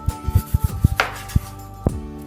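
A knife chops through a honeydew melon on a cutting board in about a dozen quick, uneven thuds, close and clear, with no talking.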